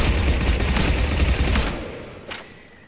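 Rapid gunfire from a weapon in the video game Mass Effect 3, loud, dense bursts of shots filling the first half, then a brief lone report after a pause.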